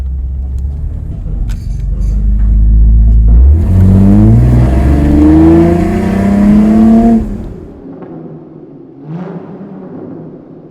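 Mercedes SL car accelerating, a loud, deep engine note rising through gears over several seconds, then easing back to a quieter rumble with a small swell near the end.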